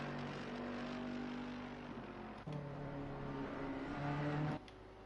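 Race car passing in Assetto Corsa Competizione at Imola, a sustained engine drone with shifting pitch and a brief swell before dropping off, moderately loud with no talk.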